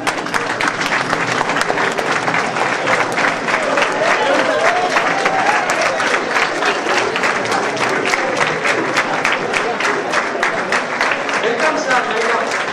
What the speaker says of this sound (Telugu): చప్పట్లతో వెల్కమ్ చెప్పాల్సిన కోరుతున్నాం